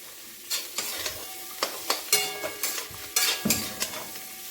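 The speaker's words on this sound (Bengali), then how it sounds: "দিয়ে ভালো করে নাড়াচাড়া করে" Cauliflower singara filling with spices and a little sugar being stirred in a pan, a spoon scraping in irregular strokes over a soft sizzle, close and fairly quiet with no talking.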